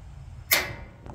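Blackstone griddle igniter giving a single sharp click, followed by a fainter second tick about half a second later, close up over a low background hum.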